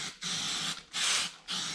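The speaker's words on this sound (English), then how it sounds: "I'm just going to spray it on it." Paint remover sprayed onto a BBS RS three-piece wheel during a restoration, heard as three hissing aerosol bursts of roughly half a second each, separated by short pauses, close and fairly loud with no talking.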